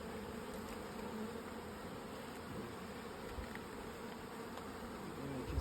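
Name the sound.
Buckfast honey bees buzzing around a hive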